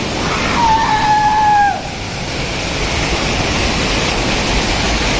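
Jogini waterfall near Manali, heard as a steady, loud broadband roar of falling water that runs without a break, with a brief high whistling tone over it in the first couple of seconds.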